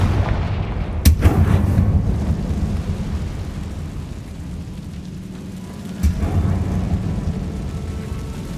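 In the Hogwarts Legacy game, a Confringo fire spell blasts twice, each a sharp booming explosion followed by a rumbling roar that slowly fades.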